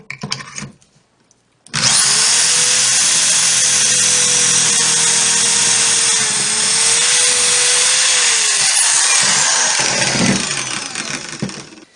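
A power drill bores pocket holes through 3/4 inch wood held in a clamped jig while a kitchen pantry cabinet is built. It is a loud, steady whine lasting about seven seconds and then stops, with no talk.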